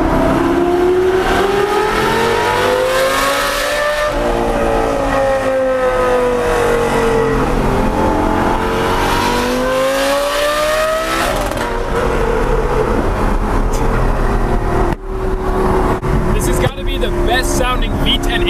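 A Ferrari 458 Spider's V10 wails loudly in a convoy of cars, its pitch rising and falling through repeated revs and gear changes over about eighteen seconds, with a voice talking briefly near the end.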